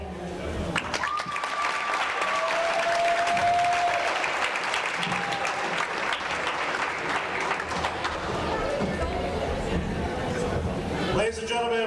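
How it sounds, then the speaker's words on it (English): Sustained, loud crowd applause fills a high school gym after a girls varsity basketball game honoring senior players, steady throughout with cheering voices mixed in. "one more round of applause for our seniors"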